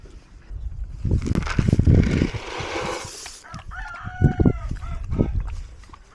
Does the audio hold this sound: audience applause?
no